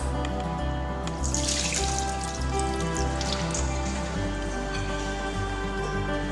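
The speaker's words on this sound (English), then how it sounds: "So this is the beans. I'm going to sieve out the chaff." Beans being sieved in water to strip off the chaff, giving a steady close wash of running, splashing water with small drips and trickles throughout.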